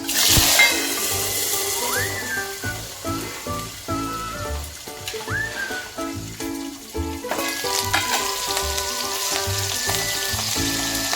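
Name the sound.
garlic, curry leaves and chillies frying in oil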